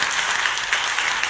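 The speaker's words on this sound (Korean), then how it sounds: "우리 하나님께 감사와 영광의 박수를 한번" A Korean congregation applauds in thanks during a church service, a dense, loud burst of clapping that stays even and unbroken for its short duration.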